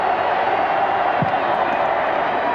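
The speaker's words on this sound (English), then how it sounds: "Before a record Orange Bowl crowd." A record stadium crowd roars at the Orange Bowl during a tied 1995 national championship game between Nebraska and Miami, a dense, steady wall of cheering close at hand, with talk mixed into the noise.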